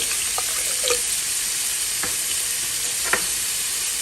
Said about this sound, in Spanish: Mientras se fríen las salchichas